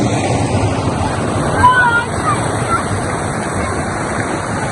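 A full waterfall swollen after rain at Nilachol in Bandarban, Bangladesh, roars as a dense, steady rush of water close to the microphone, with some wind buffeting.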